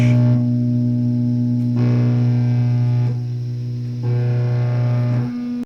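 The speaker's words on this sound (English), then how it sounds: "when I've got the fuzz boost in there, there's a bit of a higher pitch" Sustained distorted electric guitar chords through a fuzz boost pedal, with a fuzzy, buzzing edge, ringing out loud and alone, changing chord every second or so before cutting off.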